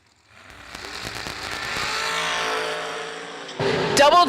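A white dragster launching down a drag strip at a winter warmup event, a loud crackling engine roar building and sustained as it pulls away, then a sharp renewed burst near the end.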